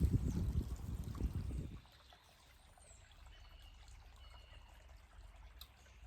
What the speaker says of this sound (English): So I'm going to give him a little bit more cleaner water here.